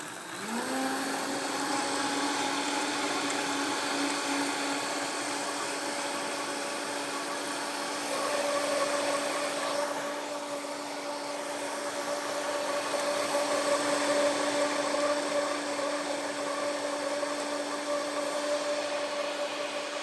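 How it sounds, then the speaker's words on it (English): A countertop blender runs steadily, blending breakfast potato casserole ingredients with a loud, continuous whirring motor hum that shifts pitch slightly partway through, alone without talk. "This is going to take a minute to blend, so sound is going to be noisy."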